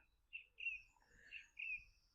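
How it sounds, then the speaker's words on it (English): A thrush sings from a tree in a walled park garden, its clear whistled phrases coming in several short bursts over quiet background. "there's a beautiful thrush here in the tree singing his little heart out"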